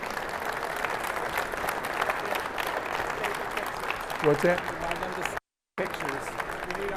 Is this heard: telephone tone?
no